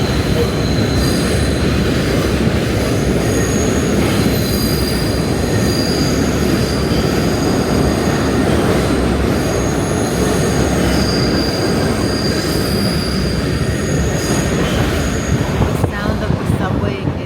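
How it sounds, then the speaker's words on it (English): Loud, continuous screech of New York subway train wheels grinding on the rails, with rumbling and clatter underneath throughout. "oh, hear the sound of the subway."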